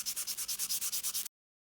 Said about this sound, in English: So with your sandpaper, you just need to give all of your wood pieces a nice little sand